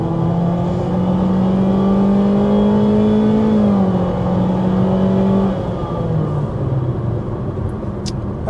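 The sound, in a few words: 2026 Honda CR-V hybrid accelerating to about 50 mph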